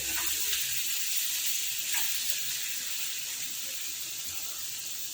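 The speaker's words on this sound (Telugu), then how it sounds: "ఇంకొక 2 నిమిషాలు ఫ్రై చేద్దాం" Okra pieces frying in a pan for a tamarind curry, giving a steady, bright sizzle throughout with a few soft stirring clicks and no talk.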